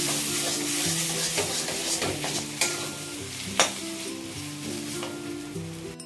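A spoon stirs potato and tomato bharta with garam masala in a hot pan, repeated scraping strokes and sharp clinks over a steady sizzle, close and fairly loud, with a sustained musical tone running underneath and no talking.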